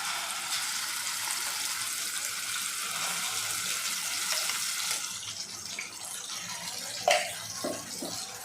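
Chili paste lands in hot oil in a pan and fries with a steady, broad hiss that thins partway through, followed by a few brief clatters near the end.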